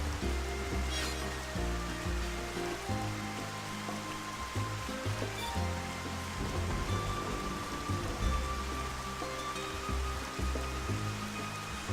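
Steady rain falling in the video game Xenoblade Chronicles, a continuous hiss of drops on surfaces at a constant level, with faint soft game music underneath and no voices.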